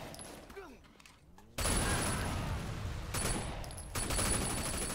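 Machine gun fire in the open-world action game Sleeping Dogs: a quiet start, then a dense, roaring stream of rapid shots that breaks off briefly and resumes, loud and close.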